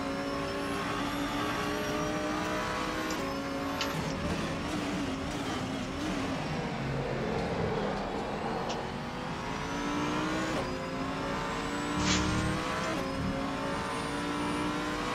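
A GT3 race car on the Istanbul circuit in a racing video game holds a steady, loud engine drone with shifting pitch as it accelerates, continuous throughout with no voices.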